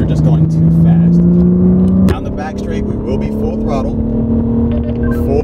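A BMW G80 M3 pulls at full throttle down a track's back straight, its engine note climbing steadily and then jumping after an upshift, loud and close from inside the car, with someone talking over it.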